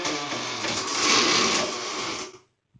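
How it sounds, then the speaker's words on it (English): Loud whirring bathroom extractor fan running close by, a steady mechanical drone that swells slightly, then winds down and cuts off near the end. "it has an extractor fan up there to deal with the steam"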